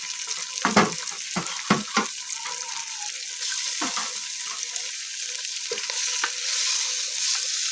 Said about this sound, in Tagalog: Lutuin natin ang ahos muna.